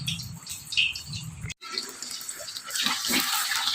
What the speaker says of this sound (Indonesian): Setelah minyak panas, masukkan tahu.